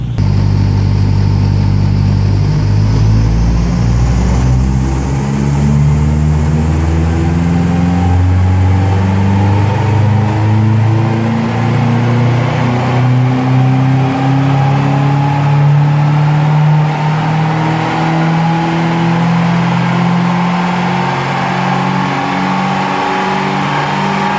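A Subaru Legacy engine, heat-soaked on an all-wheel dyno, pulls in one long continuous run, its loud droning note climbing steadily in pitch for over twenty seconds with no talk.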